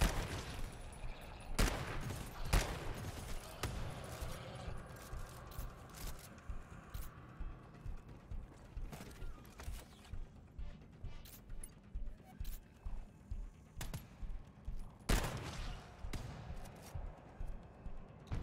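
Automated turrets in the co-op shooter GTFO fire in rapid repeating bursts, a steady rattling stream with a few heavier loud blasts near the start and end, over a busy game soundscape.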